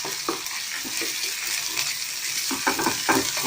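Ginger garlic paste stirred into golden onions in a hot pan, a close, busy sizzle broken by repeated scraping bursts from a spoon, steady and fairly loud throughout.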